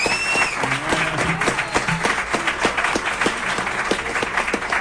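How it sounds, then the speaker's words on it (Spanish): Audience applause fills a radio show studio, steady dense clapping from a crowd with a voice speaking briefly over it at the start. "Pues Miguel, yo te doy el aplauso e imagino que el público"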